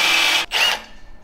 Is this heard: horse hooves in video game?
no